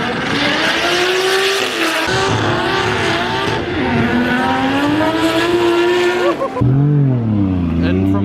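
A drift car screeches its tires through a session, loud, sustained engine howl with shifting pitch running throughout and rising revs near the end, with voices mixed in underneath.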